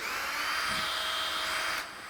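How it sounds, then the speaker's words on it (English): A handheld drill motor spins two zip ties inside a drywall texture bag, giving a steady high-pitched whir for about two seconds that cuts off near the end. "Hit your drill motor"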